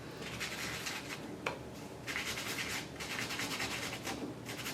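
Gentle scrubbing over embossed paint on a shabby chic journal cover: a steady, close, soft rubbing texture in repeated strokes with brief pauses, and no talking.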